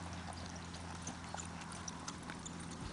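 A horse's hooves strike the ground in a posting trot during a three-barrel drill, a faint, regular clip-clop rhythm set against steady low background noise.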